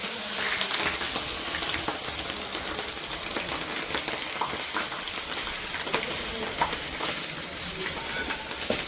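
Whole spices and chopped ingredients fry in oil in a pot over a clay stove for chicken biryani, producing a dense, continuous rain-like crackling sizzle that holds steady throughout, close up and with no talking.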